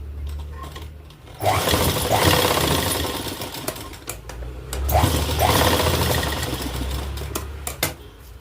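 Sewing machine stitching a blouse seam with long stitches, running in two steady mechanical bursts with a brief pause between them, loud and close with no talking.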